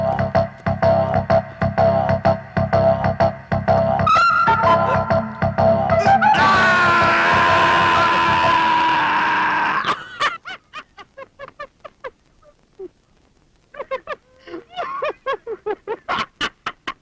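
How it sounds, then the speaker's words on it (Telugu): A long, piercing shriek held for several seconds at high pitch, loud and close, set between bursts of chaotic comic shouting and laughter in a slapstick film scene. "కెవ్వుమని అరిచి నవ్వుతావే"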